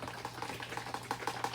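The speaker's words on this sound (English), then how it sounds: "and then I shake them up" Eggs are shaken inside a small container, giving a quick, regular rattling and sloshing rhythm that repeats at an even pace, faint and close, with a steady low hum underneath.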